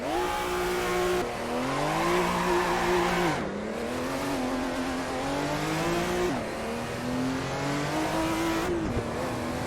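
Porsche 935 Moby Dick race car in the Assetto Corsa racing game, its engine revving loud and close through repeated gear changes, pitch climbing and dropping with each shift, with faint tire squeal and no talk.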